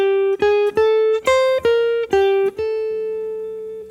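A guitar plays a short enclosure lick, about eight clean picked notes in quick succession ending on a sustained note, solo and close.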